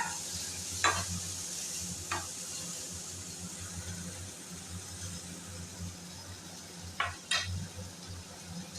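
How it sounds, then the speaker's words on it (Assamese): Onion, a few cashews and raisins fry together in a pan with a constant close sizzle, broken by a handful of brief metallic scrapes and clinks as the mix is stirred, with no talking. "ভালকৈ ভাজি ল'ব লাগিব গোটেইখিনি"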